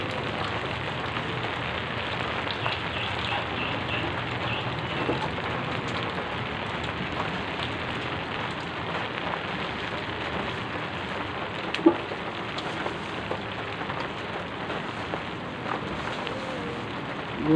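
Steady rain falls on a vendor's stall, a soft continuous patter with occasional sharper drops. It is moderately faint and even throughout, with no one speaking.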